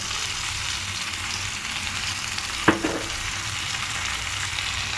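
Vegetables sautéing in butter with rosemary, oregano and chili flakes, a steady close sizzle throughout with one brief clink of a utensil against the pan midway.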